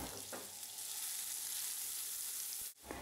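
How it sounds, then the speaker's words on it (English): Chorizo, onion and garlic fry in oil in a frying pan, giving a steady, dense, close sizzle that breaks off for a moment near the end before picking up again. "add the onion and the garlic."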